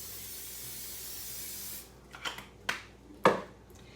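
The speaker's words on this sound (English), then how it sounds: "go ahead and spray our griddle" A continuous hiss of cooking spray onto a griddle lasts under two seconds, then stops, followed by a few light clicks and taps of kitchen handling.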